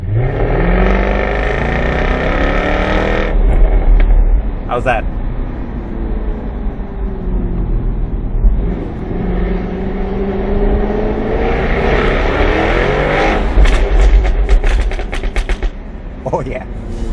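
A Jaguar F-Type V6 S with its active exhaust switched on revs loudly up close, the engine rising and falling through several throaty blips with crackles and pops, while someone speaks briefly over it.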